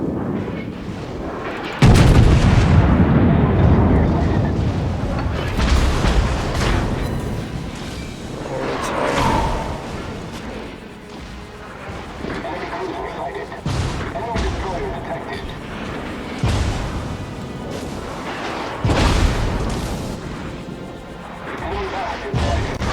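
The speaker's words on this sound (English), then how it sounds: "Concentrate fire on the designated target." Warship guns fire repeatedly in World of Warships, update 0.6.6: several loud, close booming salvos spaced through a long stretch of rumbling battle noise.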